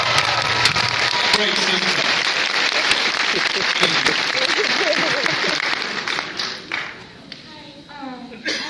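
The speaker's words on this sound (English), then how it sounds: "Let's give him a round of applause" Audience applause fills the room at the Dallas Sci-Fi Expo during a panel with Karl Urban, a dense, steady roar of clapping that thins toward the end as someone speaks over it.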